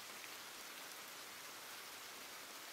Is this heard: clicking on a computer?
no